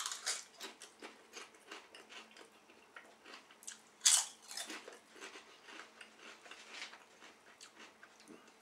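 Walkers bacon and cheddar crisps crunched and chewed close up, a quiet run of irregular crisp bites and mouth noises with one sharper loud crunch partway through, no talking.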